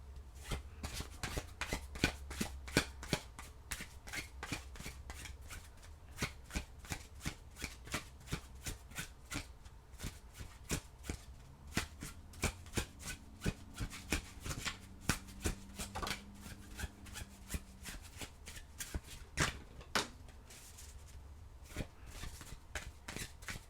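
Tarot cards are shuffled for a reading, a long run of quick, crisp riffling taps and slaps in an irregular rhythm, close and fairly quiet with no talk.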